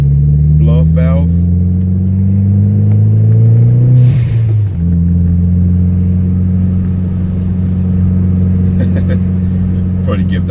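A revving Audi S3 8L engine with an aftermarket blow-off valve, loud and close: steady rising drone, a sharp dip and release near the middle, then a sustained idle-like hum, with brief clicking puffs and a voice talking over it.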